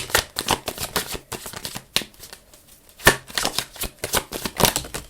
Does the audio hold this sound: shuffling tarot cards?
yes